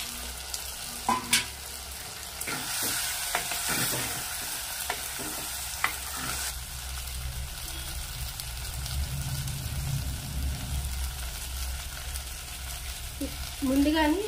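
Thinly sliced boiled and peeled colocasia pieces fry in a pan with a steady soft sizzle, broken by clattering stirs early on and a brief sharper spatter near the end.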